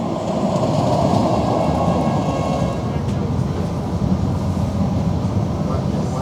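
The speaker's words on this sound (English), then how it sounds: "Well, speak of the devil, there's a tram there." A Sheffield Supertram rumbles in, a heavy low mechanical roar and rail noise that eases slightly as it slows, with a voice talking over it.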